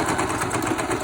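Sewing machine stitching a fabric mask, a rapid steady mechanical whirring hum, close and continuous for about a second, with no talk.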